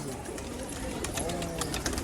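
Pigeons coo softly close by among a flock, low throaty calls repeating under a busy background hum, with a voice talking intermittently over them.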